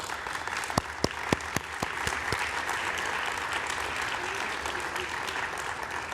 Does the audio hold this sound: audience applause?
yes